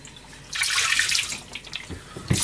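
Tap water running onto konjac as it is rinsed in a kitchen sink, a bright splashing stream that starts abruptly, flows for about a second and a half, then trails off into drips before a final short splash.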